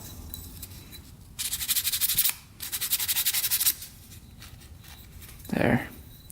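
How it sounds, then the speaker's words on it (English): Hand sanding a burr off a part with 600 grit sandpaper during a top end rebuild of a Polaris Sportsman 90cc ATV: two close, loud bursts of rapid rhythmic rubbing strokes, followed by a brief scuff of handling. "Let me go get a little sandpaper and just take that burr off of there."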